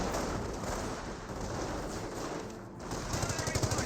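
Rapid machine gun fire from base MG positions in Company of Heroes 1, a dense rattle of bursts under a faint talking voice, with sharper staccato shots near the end.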